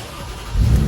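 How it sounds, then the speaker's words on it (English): A new starter on a Mercedes-Benz G-Wagon W463 cranks the engine, a low rumbling whir that swells louder halfway through and holds steady, close and with no voices. "Let's see what this new starter does."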